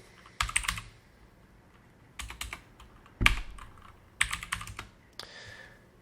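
Keys clatter on a computer keyboard in short bursts, a few quick taps, then a firmer clack and another cluster of keystrokes, close and fairly quiet.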